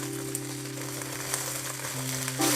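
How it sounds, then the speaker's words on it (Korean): Seasoned vegetables stir-fry in a pan over high heat, a steady close sizzle that runs unbroken with no talking over it. "1분만 볶아주세요."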